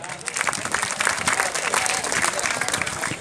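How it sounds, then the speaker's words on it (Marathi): Dense, steady applause from an audience at a state-level petanque competition at a park stadium in Solapur, a loud continuous wash of many hands clapping with a few voices mixed in throughout. "एकदा त्यांच्यासाठी जोरात टाळ्या होऊ द्या."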